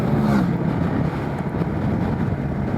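A Sym Maxsym TL 508 scooter with a 500cc, 45 hp engine rides along with a steady low engine drone mixed with rushing wind noise, continuous and fairly loud throughout.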